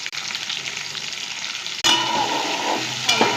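Fish frying in hot oil with a pinch of turmeric added, a steady loud sizzle with stirring scrapes that swells sharply halfway through as the pan is disturbed, then continues dense and close.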